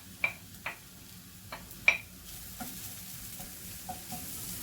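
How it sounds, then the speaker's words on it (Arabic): Onion goes into hot oil in a pan, producing a quiet, soft sizzle punctuated by a handful of sharp clicks and taps from a utensil against the pan. "ملي سخن ليا الزيت غادي ندير البصله"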